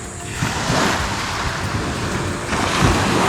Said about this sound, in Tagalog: nakakamiss ang tunog ng dagat or yung alon